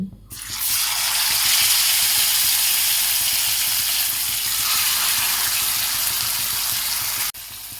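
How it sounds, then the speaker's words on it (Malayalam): Fish frying in a pan gives a loud, steady broadband hiss and sizzle that holds without a break before cutting off sharply near the end. "ഈ മീൻ ഇതിൽ വെച്ച് ഫ്രൈ ചെയ്യണം."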